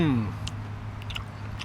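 Close, soft chewing of firm, snappy wood ear mushroom from a Filipino soup, a few faint moist bites and crunches after a short vocal sound at the start.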